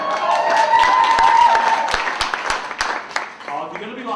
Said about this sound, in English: you're going to need to clap equally for everybody